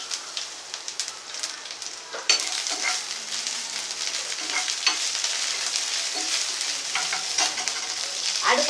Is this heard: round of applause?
no